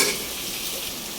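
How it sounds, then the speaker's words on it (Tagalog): Garlic sautéing in cooking oil in a pan, a steady soft sizzle with light stirring scrapes, brief and close, with no voices. "Inalamusan lang sa mantika. Nagisa ng bawang. Ginisa na ulit."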